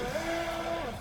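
WLtoys WL912-A self-righting RC boat run at full throttle, its small electric motor giving a steady, high-pitched whine that holds level for about a second, alone and unbroken.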